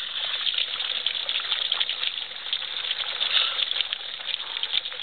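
Hot spring water runs into an outdoor soaking tub, a steady close splashing trickle with a constant bright rush and no break throughout.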